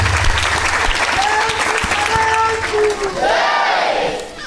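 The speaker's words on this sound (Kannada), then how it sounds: "ಶ್ರೀರಾಮು ಅವರನ್ನು ನಾವೆಲ್ಲರೂ ಚಪ್ಪಾಳೆಯ ಮೂಲಕವಾಗಿ ಸ್ವಾಗತ ಮಾಡೋಣ" Audience at a Kannada Christian gathering applauds to welcome a preacher, a loud, sustained crowd clap with some cheering and voices mixed in, plus faint sung tones over it.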